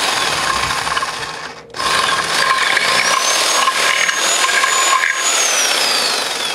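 A corded drill grinds through a wooden baseball bat up close, a loud, steady, rasping whine that briefly cuts out and then keeps going with slight pitch shifts.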